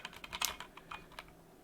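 Typing on a keyboard fitted with a lubed and filmed Everglide Crystal Purple tactile switch, a quick run of crisp, fairly soft keystroke clacks heard close up and alone.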